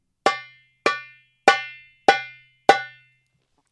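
Five evenly spaced tek strokes on a darbuka, each a sharp, bright ringing tap from the metal rim area that decays quickly, played alone and close with steady spacing.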